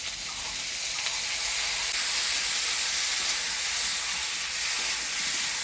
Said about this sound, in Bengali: ফোড়নের তেলে আলুটা নাড়াচাড়া করে নিলাম